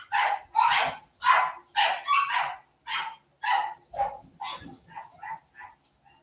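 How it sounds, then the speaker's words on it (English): Several dogs barking at a house, a close, loud run of repeated barks and yips in quick succession, tapering to shorter, lighter yaps at the end. "I just heard all the dogs."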